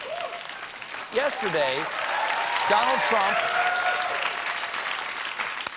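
A late-night talk show studio audience applauds loudly and steadily, a dense wash of clapping that runs through the whole stretch while someone talks over it.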